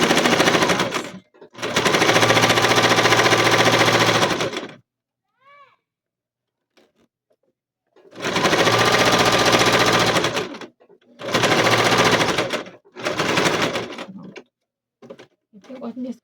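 Sewing machine running a line of stitching back over an existing seam on a child's backpack, in several loud rapid-fire bursts separated by silent pauses.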